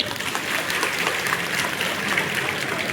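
Women in an audience at a student felicitation gathering clap together, producing a dense, steady wash of applause that runs evenly throughout without pause.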